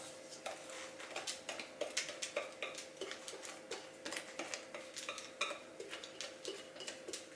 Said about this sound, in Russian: С помощью ложки равномерно распределяю тесто по всей форме.